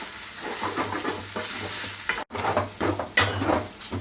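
Meal maker soya chunks fry lightly in a pan with a steady close sizzle, broken by repeated stirring scrapes and one brief near-silent gap midway.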